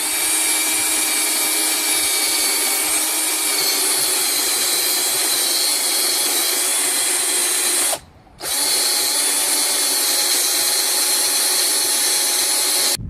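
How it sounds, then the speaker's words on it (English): A drill fitted with a wire wheel scours graffiti paint off rock, a loud, steady, high whine running continuously apart from one brief stop before spinning up again. "So what I'm going to do is use the drill with the wire wheel on it,"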